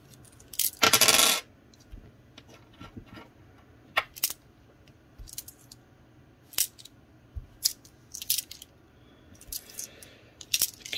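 Loose coins clink and rattle while being handled and sorted from a $500 batch, with one brief burst of heavier pouring and then scattered single clinks and small jingles at a quiet, close level.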